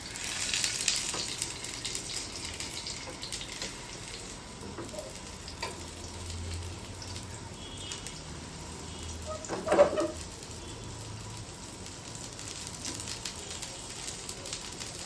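Chicken and vegetable rolls frying in hot oil, giving a faint, steady sizzle and crackle that runs throughout, with one brief louder bump of movement partway through.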